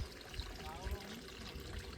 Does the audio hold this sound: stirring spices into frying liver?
no